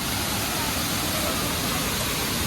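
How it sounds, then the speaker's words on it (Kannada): A waterfall in Coorg roars as a steady, dense wash of broadband rushing water, close and unbroken throughout. "This is the falls."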